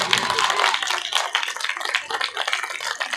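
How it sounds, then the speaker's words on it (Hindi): An audience at a Buddhist dhamma sermon claps loudly and steadily, a dense wash of hand claps with no speech over it. "और तालियां जब तक बजाओ जब तक सभी चुप ना हो जाएं"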